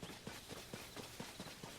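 Horse hooves clip-clop at a steady trot in the Zelda: Tears of the Kingdom video game, roughly four evenly spaced soft thuds per second over a low game background, with no voices.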